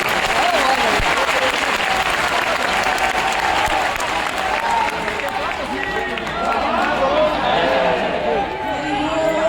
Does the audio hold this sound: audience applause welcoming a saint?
yes